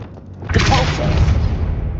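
A Depulso force spell cast in the Hogwarts Legacy video game, heard as a loud, near booming thump with a short whooshing burst that rolls on and fades over a couple of seconds.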